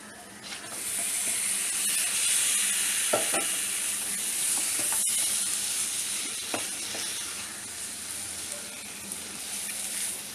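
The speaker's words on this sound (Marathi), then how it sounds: "आता मी हे चिकन मिक्स करते" Chicken tossed and fried in masala sizzles with a bright steady hiss, broken by several scraping stirs of a spoon in the pan, close and continuous.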